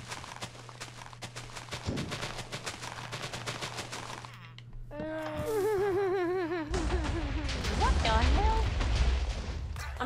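Explosions in Minecraft, a dense run of rapid crackling bursts giving way to a louder rumbling blast with a roaring tail, while voices talk and shout over the chaos.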